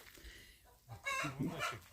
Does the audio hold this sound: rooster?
yes